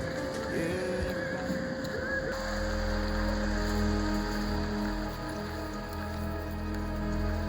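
Heavy rain pours steadily during a hike on an old trail through Guangdong karst wilderness, a dense close patter with a low drone joining partway through.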